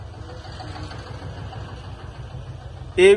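A brand-new 5210 Gear Pro tractor with double PTO idles close by, giving a steady low rumbling throb. A sudden loud, sharp burst cuts in right at the end.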